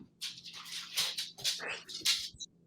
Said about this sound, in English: You hear that in the background to your musical stylings of Bruce the dog on the hardwood floor there.